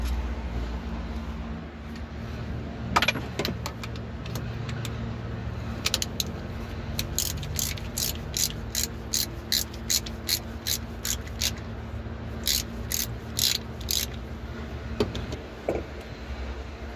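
A ratchet loosens bolts on a Kia Bongo water pump during engine work. Bursts of rapid clicking repeat close by against a steady low hum, with quiet pauses between the bursts.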